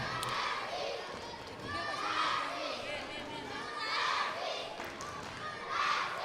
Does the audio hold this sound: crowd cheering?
yes